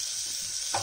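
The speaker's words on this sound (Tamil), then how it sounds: "இப்போ இதெல்லாம் லைட்டாக ஃப்ரை பண்ணிக்கோங்க." A sliced large onion frying lightly in a pan for egg biryani produces a brief, close, even sizzle that swells slightly at the very end.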